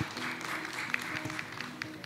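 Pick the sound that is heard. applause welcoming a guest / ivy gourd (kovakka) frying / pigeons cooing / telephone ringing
applause welcoming a guest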